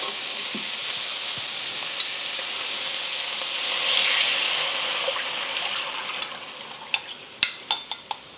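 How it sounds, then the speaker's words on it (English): Beef and peas pushed aside in a frying pan, a steady close sizzle under scraping and stirring, ending in several sharp clacks of a utensil against the pan in the last seconds, no talk. "you're going to move the meat and the peas to the side so we can get our gravy in there"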